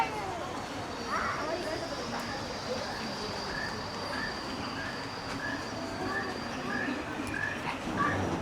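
Birds call repeatedly in short chirps across a tropical garden at Discovery Cove, fairly distant, over a steady background hum of outdoor ambience.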